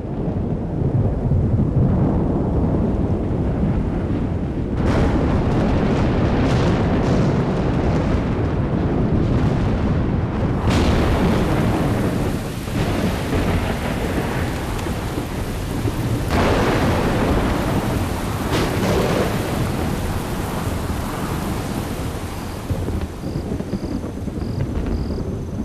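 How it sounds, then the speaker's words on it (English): Thunderstorm at evening on the Serengeti plains: steady heavy rain hisses throughout while deep rolling thunder rumbles repeatedly, loud and close, with no voices. "Storm clouds gather in the evening."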